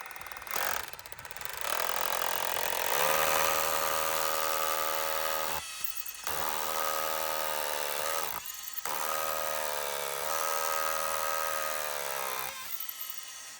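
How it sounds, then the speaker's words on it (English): A drill boring into a concrete block for a concrete screw, loud and close in three sustained hammering bursts of several seconds each, separated by short pauses, the tone dropping slightly as each bore deepens. "then get a drill in"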